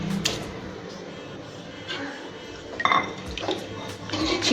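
Raw chicken, about 500 grams, goes into a mandi biryani pot in a home kitchen, giving soft clattering and knocks of metal cookware and utensils with a faint wet plop, close and moderately quiet.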